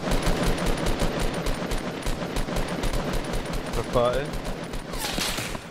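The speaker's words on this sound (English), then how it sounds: "we're getting shot from the right, I think" Rapid bursts of automatic gunfire and gunshots in the Call of Duty video game rattle on continuously, loud and close, while a player talks over them.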